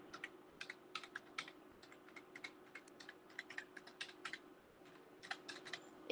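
Light, rapid keystrokes on a computer keyboard tap out text in irregular bursts, quiet and close in a hushed room, with a faint steady hum underneath.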